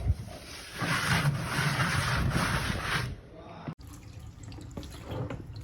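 A plastic bucket being washed with water, with a steady broad splash and running-water rush for about three seconds that is then cut off, leaving quieter dripping and sloshing.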